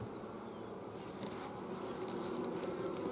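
Honeybees swarm and buzz at an open queen-right hive, a dense, steady hum close by that swells slightly toward the end.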